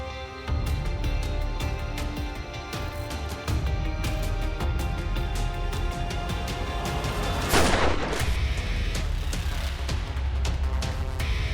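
One sharp gunshot cracks out partway through a scene from the TV crime drama Crime Patrol, set against a continuous dense background of music and rumble.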